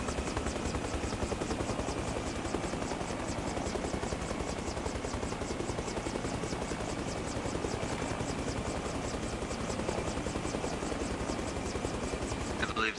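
A helicopter flies around the island in the video game Arma Reforger, its steady rotor chop pulsing evenly throughout at a constant loudness while people talk over it.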